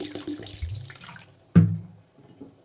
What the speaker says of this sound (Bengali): জল ঢেলে দিচ্ছি।